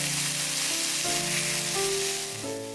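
Beef steaks sear in a hot pan for a Thai steak salad, nam tok neua, giving a loud, continuous sizzle close to the pan with no talk over it.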